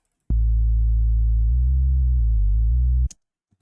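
A deep synthesized sub bass in a drum and bass remix holds a steady low tone for about three seconds, shifting pitch a few times, then cuts off sharply.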